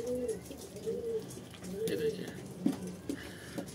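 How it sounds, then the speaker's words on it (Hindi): Pigeons cooing inside a net enclosure give soft, repeated low coos spread across the moment, with a faint background rustle and some quiet talk nearby. "कुछ कबूतर हमारे सामने वाले जाल के अंदर है।"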